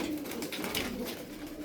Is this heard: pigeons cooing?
yes